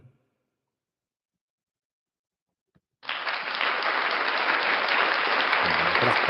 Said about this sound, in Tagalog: Palakpak na tayo, palakpak.